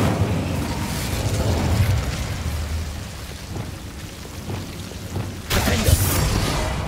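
Incendio fire spell cast in Hogwarts Legacy, heard as a dense roaring, crackling rush of flame with low rumbling booms, loud and continuous, swelling again in a fresh burst near the end, with no talk.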